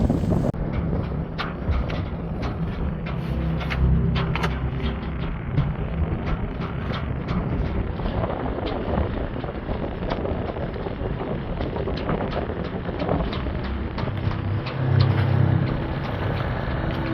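Steady wind roaring over a boat heading into the wind on the Columbia River, with a constant rushing rumble and engine drone throughout, no talk.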